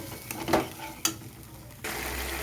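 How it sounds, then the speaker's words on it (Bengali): Mung dal being stir-fried with spices in a dry wok with a little oil, a soft sizzle with a few scraping stirs near the start, then a steadier, louder frying hiss toward the end. "এবারে মুগ ডালটা দিয়েও আমি কিছুক্ষণ কষিয়ে নেব।"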